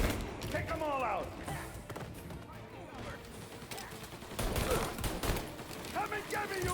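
Tommy gun fire in the game Mafia, with loud rapid bursts and booming shots scattered across the clip, mixed with shouted game dialogue and chaotic combat noise.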